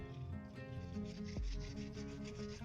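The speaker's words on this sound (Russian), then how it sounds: "Берем наждачную бумагу P240, маленький кусочек, через брусок, чтобы была плоскость ровненькая, и шлифуем по плоскости." A car headlight lens on a Renault Laguna 2 is sanded flat with P240 sandpaper wrapped around a block, giving a close, continuous rasping rub with steady strokes and no talk.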